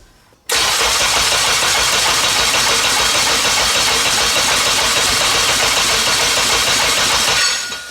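Turbocharged Honda Civic engine catching after a start attempt and running loud and close for about seven seconds with a slightly uneven, sputtering rumble, then dropping off at the end.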